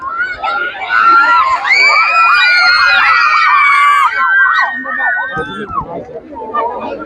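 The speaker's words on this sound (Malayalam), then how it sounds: "അവസാനമായി നടന്ന ഒപ്പനയുടെ റിസൾട്ട് വന്നതിന്റെ ആഹ്ലാദ ആരവാണ് നമ്മളിപ്പോൾ കാണുന്നത്" Students at a school arts festival cheer, shout and scream when the Oppana dance result is announced. The crowd noise is loud and sustained with excited high voices, then tapers into scattered chatter near the end.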